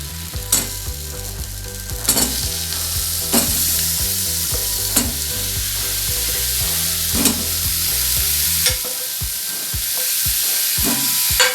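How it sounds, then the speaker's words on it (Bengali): Potatoes for Bengali-style aloo dum sizzle loudly in hot oil, a close, constant frying hiss with periodic stirring scrapes and knocks, while background music plays underneath. "আলু ছেড়ে দিচ্ছি।"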